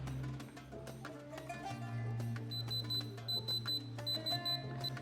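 A diamond selector tester held against the sapphire crystal of a Seiko NH35A automatic watch gives a series of short, regular electronic beeps near the end, over a low steady hum and quiet clicks.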